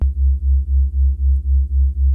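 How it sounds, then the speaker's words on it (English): Two sine oscillators on a synthesizer, pitched low with one detuned a semitone, give a dark, ominous tone that pulses in a steady wobble about four times a second, sustained and alone. "then we get that wobble, that sort of ominous dark sound to it"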